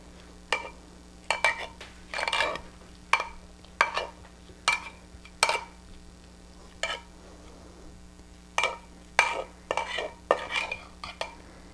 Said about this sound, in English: You can use a potato masher and just push down on it, and that just releases any air that's in there.